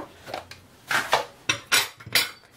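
Potato pancake batter with eggs being mixed in a bowl, with several distinct clinks and scrapes of a utensil against the bowl in an irregular rhythm, close and fairly loud, with no talking.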